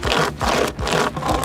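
A cheap hand chainsaw (pocket chain saw) cuts through wood with a steady rasping, scraping rhythm, three long pull strokes close by with short pauses between them.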